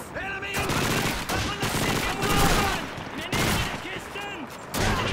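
Rapid gunfire rattles through a battle in the World War II shooter Call of Duty 2. The dense bursts and crackles go on without a break, mixed with shouting voices and game chatter.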